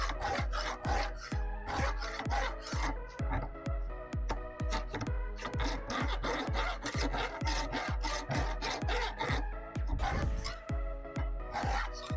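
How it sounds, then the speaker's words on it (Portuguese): A Vallorbe file is worked by hand along a steel knife blade, giving a fast, even series of rasping strokes close to the microphone. The strokes come in a steady rhythm with only a few short pauses. "Essa lima da Valorbe come muito."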